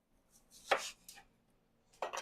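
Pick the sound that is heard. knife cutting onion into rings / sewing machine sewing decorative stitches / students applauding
knife cutting onion into rings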